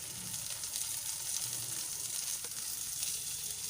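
Potatoes hit hot oil and sizzle in a steady, close frying hiss that carries on evenly throughout, with no voices.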